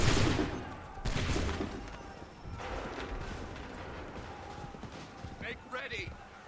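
A loud musket volley erupts in the Assassin's Creed video game, with a second crashing burst a moment later, then a rumbling battlefield din under shouted voices.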